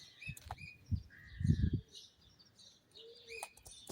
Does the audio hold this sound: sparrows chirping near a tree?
yes